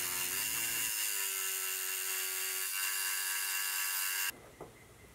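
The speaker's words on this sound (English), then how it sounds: "I'll remove the mill scale with the fly cutter" Steel-cutting whine from a fly cutter on a milling machine taking mill scale off a steel section, a loud steady tonal drone with strong harmonics that holds for about four seconds, then stops abruptly, leaving only faint clatter.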